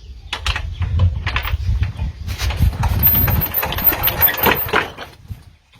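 A grass cutting machine engine runs unevenly near the microphone, a rough sputtering idle with irregular knocks and surges in a cold winter setting, without talk over it.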